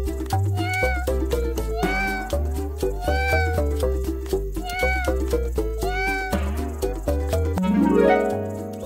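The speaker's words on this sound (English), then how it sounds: "How does the cat meow?" A domestic cat meows repeatedly in clear, drawn-out cries at a steady pace, close and moderately loud, with a soft background music bed underneath.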